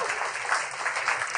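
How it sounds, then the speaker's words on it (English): A conference audience gives a round of applause, a dense patter of clapping held steady at moderate volume for a brief moment. "A round of applause for that."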